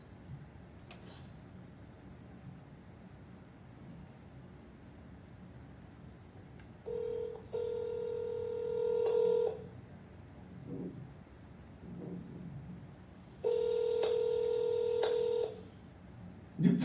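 A phone call placed by dialing, with steady electronic ringback tones repeating in two long bursts separated by a quiet gap, clear and close against a faint background hiss.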